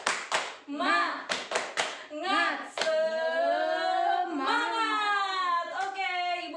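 A group of women at a community training session clap a quick rhythmic pattern of several sharp beats, then join in a loud, drawn-out shouted chant, with some clapping continuing under the voices.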